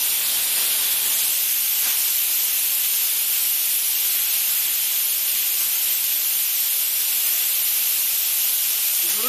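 A newly fitted safety valve on a steam boiler pops off and vents steam with a loud, steady, close hiss that holds for the whole stretch without a break.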